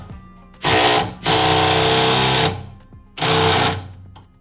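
A power tool works a nut loose on a car in three loud, close bursts: a short whirring run, a longer sustained one, then a brief final burst, each rising and stopping sharply with quiet gaps between.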